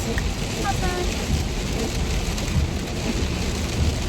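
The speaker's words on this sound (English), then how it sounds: "I know this rain is really loud" Heavy, loud rain pouring down, a dense, continuous hiss and patter close by throughout, with a faint voice briefly heard beneath it.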